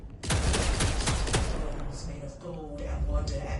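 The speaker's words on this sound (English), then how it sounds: "Give me a submachine gun." Rapid submachine gun bursts in Vampire The Masquerade Bloodlines 2, a dense run of sharp shots for about a second and a half, then fading into booming game ambience with a voice talking over it.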